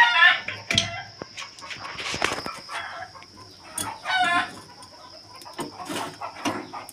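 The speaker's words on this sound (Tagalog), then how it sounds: "Yung mga manok ay nahapon." Chickens clucking and a rooster crowing in a rural yard, with bursts of close clucking, wing flaps and a crow, irregular and moderately loud over a faint steady background tone.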